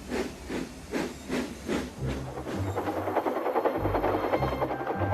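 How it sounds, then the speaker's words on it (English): A cartoon steam tank engine puffs rhythmically across the countryside, a series of evenly spaced hissing chuffs that blur into faster steam bursts over a low rumble of running wheels. "Thomas puffed across the countryside."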